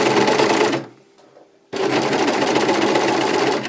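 A sewing machine runs loud and close while stitching a knit jersey neckband, its steady whir dropping to a brief quiet stop before resuming at full speed.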